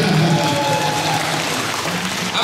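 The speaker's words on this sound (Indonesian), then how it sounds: "Tepuk tangan yang meriah" Church seminar audience at HKBP Pasar Minggu breaking into lively applause, a loud, dense burst of clapping that holds steady for a couple of seconds.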